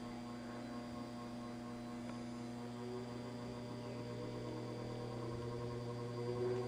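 An old sewing machine's induction motor runs slowly on a variac, giving a steady, even hum with a faint tonal whine that holds constant throughout, with no voices.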